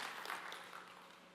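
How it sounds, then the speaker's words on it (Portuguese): A church congregation applauds together in a soft, dense, continuous wash of clapping heard from a distance, with no voices over it. "Aplauda ao Senhor em nome de Jesus Cristo"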